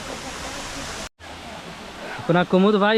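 Hundru waterfall near Ranchi, Jharkhand, roars as broad steady rushing water, briefly cut off, then continues under a voice speaking near the end.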